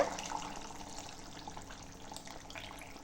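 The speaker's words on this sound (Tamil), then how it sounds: "நம்ம வந்து புளி கரைச்ச தண்ணியை வந்து சேர்த்துக்கலாங்க" Tamarind water pours steadily into a pot with a constant splashing wash, close by, with no talk over it.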